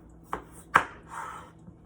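Potatoes being cut with a knife for homemade garlic mashed potatoes: two sharp chopping knocks close by, the second louder, followed by a softer scraping rub, with no talking.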